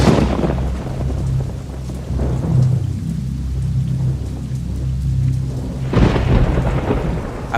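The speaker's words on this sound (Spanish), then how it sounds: "llovía en la ciudad de Guanajuato y los relámpagos y los truenos no daban un" Thunderstorm over a city with steady rain hissing throughout and several deep rolling thunder rumbles, one early, a long one through the middle and a fresh crack near the end, loud and close with no voices.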